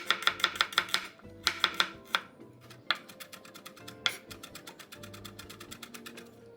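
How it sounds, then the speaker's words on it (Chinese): Shallots sliced and then minced with a knife on a cutting board, rapid bursts of sharp, close knocks in quick runs separated by brief pauses, with faint steady music underneath. "切片后再剁碎。"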